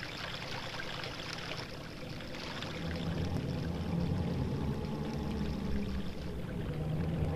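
Water rises and flows in The Legend of Zelda: Majora's Mask video game, a soft continuous pouring, streaming wash that swells a little louder partway through, faint and without talk.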